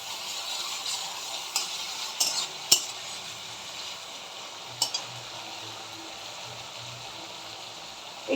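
Ginger-garlic paste sizzles in a hot pan after the onions have browned. A soft steady fry runs underneath as a spoon stirs, with sharp clinks against the pan here and there and no voices.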